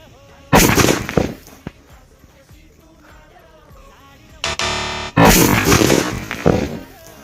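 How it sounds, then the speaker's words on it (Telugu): A rope bomb firecracker ignited by a magnifying lens, placed under the lens and watched from a distance, goes off in two loud booming blasts a few seconds apart, each followed by a rumbling tail. "ఇప్పుడు ఈ తాడు బాంబుని కూడా దాని కింద పెట్టి చాలా దూరం నుండి చూస్తున్నాం అది కాలుతుందా లేదా అని."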